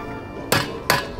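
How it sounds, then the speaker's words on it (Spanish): Two sharp hammer strikes about half a second apart, loud and close with a slight metallic ring, over a low background hum. "Martillo."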